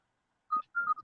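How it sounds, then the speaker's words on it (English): A mobile phone goes off with two short electronic tone bursts, close and clear against otherwise silent surroundings. "that's my phone going on"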